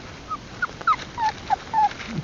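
A month-old puppy whimpers by an outdoor campfire, a series of short, thin, high whines spaced irregularly across the moment, fairly close and quiet, with no one talking over them.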